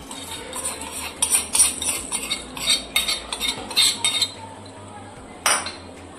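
A spoon scrapes and clinks against a pan in uneven bursts, stirring thick raw-mango and lentil chutney just after tempering, with a low hum in the background.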